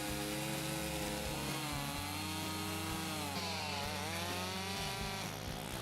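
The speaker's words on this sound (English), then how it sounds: "he gave us a chainsaw," Chainsaw cutting down a tree across a trail in Maine, engine screaming steadily under load with pitch dips as the chain bites into the wood, loud and close, no voices.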